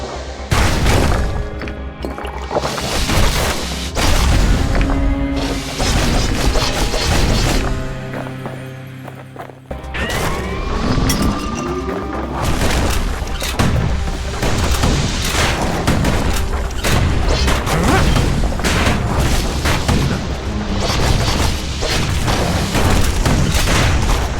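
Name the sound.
musket blasting in the video game Bastion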